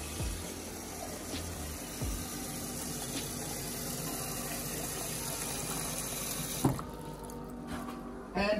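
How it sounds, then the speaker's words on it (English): Tap water running steadily into a measuring cup in a home kitchen while Jamaican cornmeal porridge is prepared, a continuous close splashing flow that ends with a few knocks and handling sounds near the finish. "So I'm going to get some water in my measuring cup here."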